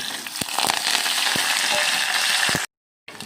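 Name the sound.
tempering spices frying in oil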